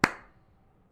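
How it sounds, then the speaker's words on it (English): A single sharp hand clap, close and fairly loud, with a quick decay into near silence. "I'm sorry if that clap was loud"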